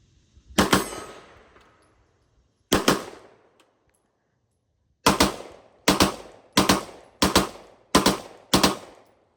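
A Glock 17 with an aftermarket binary trigger fires close up: two isolated loud cracks, then a quick run of five evenly spaced shots, each with a short ringing decay.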